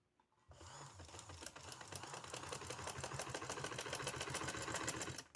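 A sewing machine runs at a steady fast rhythm of rapid stitches, close and clear, while a sleeve design is stitched, starting after a brief quiet moment and continuing without pause.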